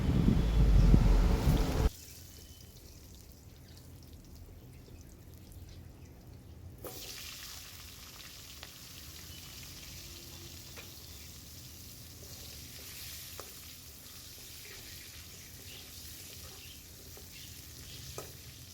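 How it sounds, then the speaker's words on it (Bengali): Potatoes fry in hot oil in a kitchen pan, a faint, steady sizzle lasting throughout after a brief loud burst at the start, with occasional small crackles. "এবার আমি ওই তেলের মধ্যে আলুগুলো ভেজে নেবো ভালো করে"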